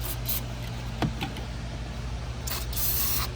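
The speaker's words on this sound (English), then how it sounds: "So we're going to clean this business out with my spray can." CRC contact cleaner sprays from an aerosol can into a car electrical connector clogged with hardened grease, during a P0135 check-engine-light repair. Two close, hissing bursts are heard, a brief one at the start and a longer one near the end, over a steady low hum.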